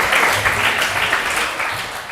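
A church congregation applauds at a Sunday service, a full, even burst of many hands clapping together that holds steady and then tapers slightly.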